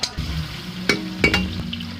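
Cumin, bay leaves, chopped tomato and chili crackling in ghee, a close, moderately loud sizzle with a few sharp spatula knocks and scrapes against the pan, no voices.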